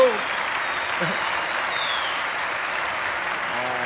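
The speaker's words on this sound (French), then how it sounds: "Applaudissez ma fille, enfin." A comedy-show audience applauds in a steady, dense burst of clapping that holds evenly throughout, with a voice speaking faintly at the start and end.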